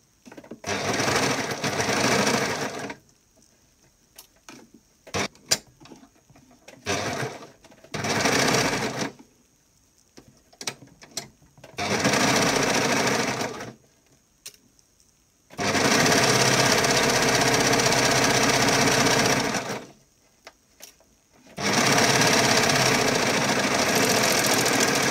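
A sewing machine stitches a swimsuit bikini top with a straight stitch in several bursts, long continuous runs of steady mechanical whirring separated by pauses and short taps, close and fairly loud.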